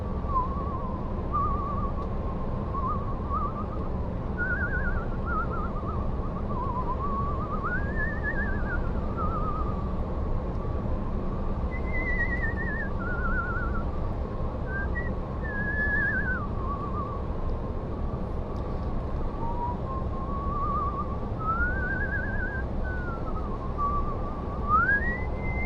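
A person whistles in imitation of whistling wind, a faint wavering tone that rises and falls in slow swoops over a steady low background hum, continuing for about twenty-five seconds.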